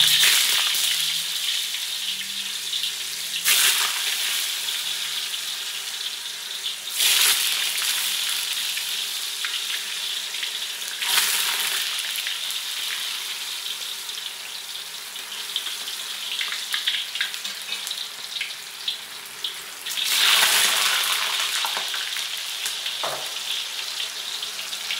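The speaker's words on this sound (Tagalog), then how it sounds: "O, tokwa naman. Piprito natin ngayon." Whole blocks of tokwa, Filipino firm tofu, fry in a pan with a loud, steady hiss and crackle. The sizzle swells in bursts every few seconds, and no one talks.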